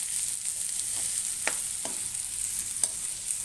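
Chopped onions fry in oil in a pan for a stuffed brinjal dish, with a steady high sizzle and a few soft stirring scrapes and taps.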